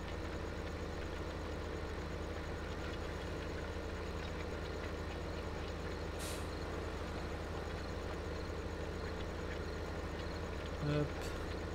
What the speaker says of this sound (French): Attention, le tracteur revient.